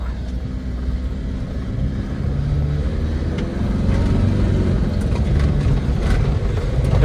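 An ambulance rumbles along a rough ghat-section mountain road, its engine drone and cabin rattle forming a loud, steady low roar that swells slightly toward the end.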